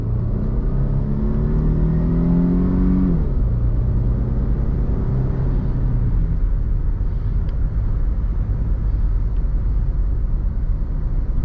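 A 2012 Jeep Liberty engine accelerating during a drive, loud rising rumble and whir of the engine building in pitch for a few seconds, then settling into a steady drone with road noise.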